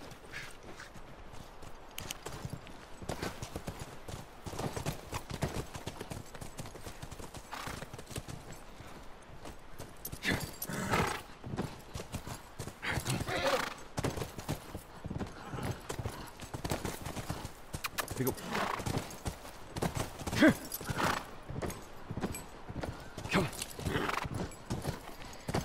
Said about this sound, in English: Come on, back to the horses.